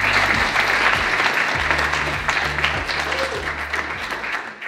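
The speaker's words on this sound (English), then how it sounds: "Big round of applause, please." Audience applause at a Brighton conference talk on search data, steady dense clapping at full volume that tapers off near the end, with a low rhythmic thumping underneath.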